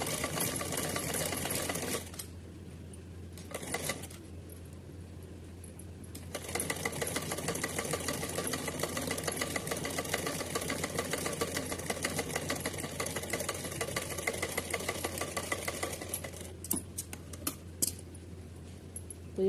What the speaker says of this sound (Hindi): अब हमें ये खींचते हुए सिलना है, कपड़ा नहीं खींचना है, केवल हमें लास्टिक खींचनी है।